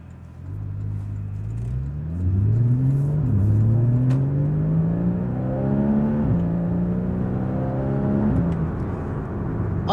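Porsche 981 Cayman S engine revs steadily up through repeated rising sweeps, loud and close, with brief dips at each gear change before climbing again, no talk.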